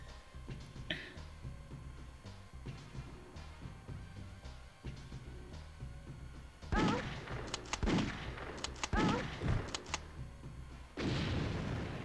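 Gunfire in The Crow: City of Angels video game speedrun, dense broadband bursts of shots arriving in clusters during the second half, loud and close over a low, steady game backdrop.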